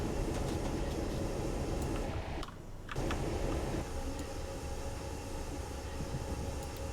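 Train Simulator locomotive running along a long straight, a steady loud rumble with broadband rail noise that briefly dips for half a second, then continues unbroken with a faint high tonal whine.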